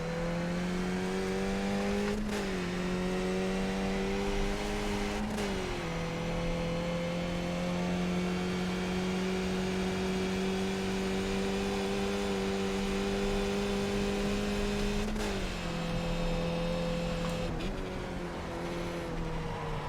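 A Skip Barber race car engine drones loud and close in iRacing at Oulton Park, its steady tone climbing as it accelerates and briefly dropping with each gear shift, four changes in all, with no talk.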